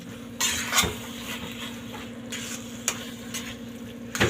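Chili and turmeric roast in a pan for baingan bharta, giving a soft steady sizzle broken by a few sharp scrapes and clinks as a spatula stirs the spices.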